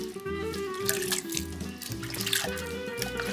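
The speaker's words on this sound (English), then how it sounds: "A little bit more water." Water from a tap pours steadily into a bowl while empanada dough is being mixed, a close, continuous trickling splash with faint kitchen clatter.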